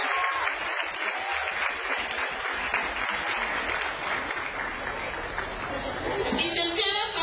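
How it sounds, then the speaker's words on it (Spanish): Applause for a municipal official at a public event in Cosoleacaque, a sustained crowd of clapping mixed with cheering and chatter, fairly distant and steady, rising slightly near the end. "¡Fuertes los aplausos!"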